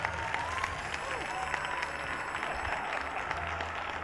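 An audience at an ideas conference gives a brief round of applause after a coin toss, a steady, fairly distant patter of many hands with some voices mixed in.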